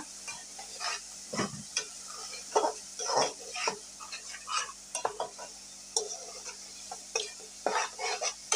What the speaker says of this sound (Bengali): তো এখন আমি মশলাটা ভালো করে কষিয়ে নেব।